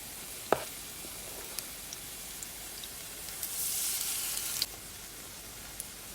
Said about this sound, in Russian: Вот так румянятся наши пышненькие оладушки